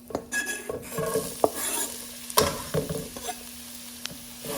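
Chopped onion frying in oil in a pan on medium heat, stirred with a utensil: a steady sizzle under scraping and clinking strokes of metal against the pan, with a few sharper knocks.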